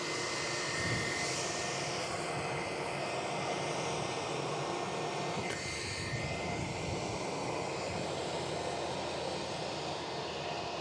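An airplane departing Perth Airport roars steadily with broad engine noise heard from a distance, a sustained rumbling whoosh with a brief shift midway, continuous throughout.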